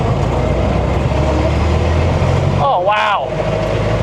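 A 100-year-old car with a 20-horsepower engine roars loudly and steadily at speed with rumbling wind noise, and a person briefly exclaims near the end.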